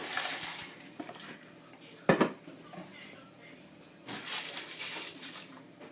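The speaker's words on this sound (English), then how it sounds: "So we add the beans." Pinto beans added to a cooking pot with smoked turkey, a sharp clatter and pour against the pot followed by a hissing rush, close by, with a person talking before it.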